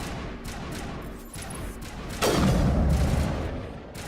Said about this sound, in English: Monovi is under coordinated crossfire